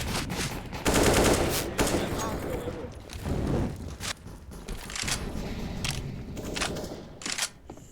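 Gunfire in a shooter video game crackles in dense, loud bursts of rapid shots with short pauses between volleys, with voices faintly mixed in.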